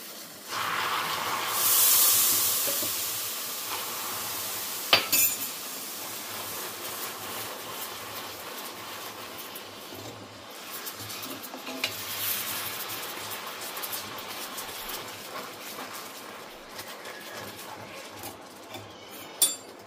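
Milk poured into caramelized sugar over a low gas flame sets off a burst of sizzling hiss that settles into softer bubbling, with occasional spoon clinks against the pan as it is stirred.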